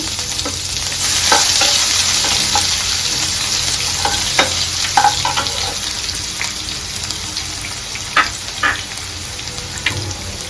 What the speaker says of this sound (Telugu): దోరగా వేయించుకోవాలి ఇవి వేగి తిరగమాత కింద వేగిన తర్వాత ఉల్లిపాయ ముక్కలు